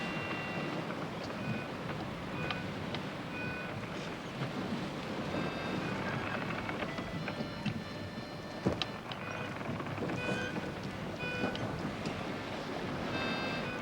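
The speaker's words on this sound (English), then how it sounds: "The wind's freshening." Wind blows steadily over open sea around a sailing ship, a continuous rushing hiss with wave wash beneath and occasional creaks and faint tonal whistles, moderately loud and unbroken, no talk.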